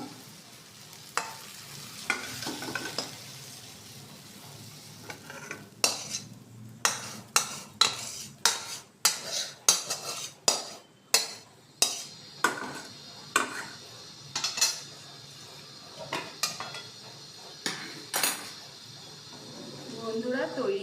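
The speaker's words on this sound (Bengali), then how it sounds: "এটা আমি একটা পাত্রে তুলে রাখবো।" Eggplant curry with onion and egg being scooped from a pan into a bowl: a rapid series of sharp metal spoon scrapes and clinks against the pan over a soft sizzle, with a voice talking at times.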